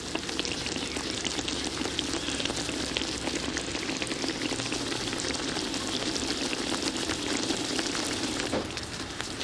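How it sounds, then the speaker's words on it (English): Chicken curry made with light coconut milk bubbles steadily in a pan, a constant dense sizzle and crackle with small pops throughout, close and even in level. "Bring to a simmer and allow to bubble for 5 minutes."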